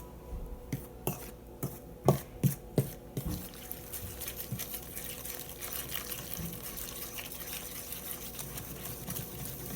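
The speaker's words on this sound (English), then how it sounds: "Now we're slowly gonna start to add some water" Water trickles and splashes as it is slowly poured into a vegan cauliflower wing batter in a bowl, with a few distinct drips early on, then a steady, quiet, close pour.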